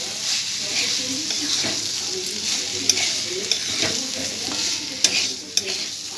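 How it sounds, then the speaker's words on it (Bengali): Muri ghonto ingredients, rice and fried potatoes among them, are stirred and mixed in a pan for a Puja-special dish made with Gobindobhog rice. The steady scraping and stirring runs over a soft sizzle, with a few sharp clinks of the utensil. "দিয়ে দিচ্ছি ভেজে রাখা আলু এরপর সব উপকরণগুলো ভালো করে মিশিয়ে নিচ্ছি"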